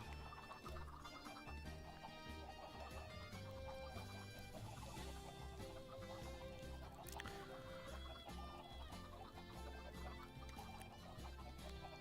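Chickens cluck in Minecraft with the Cobblemon mod. The clucks sit fairly quietly under a dense, continuous game soundtrack and ambience that runs for the whole stretch.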